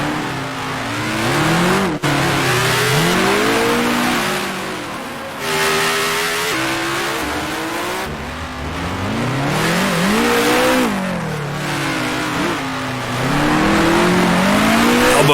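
Vintage 1966 Formula One race car engines at Monaco in Grand Prix Legends, loud and continuous, rising and falling through revs and gear changes with brief tire squeal as cars battle through the hairpin.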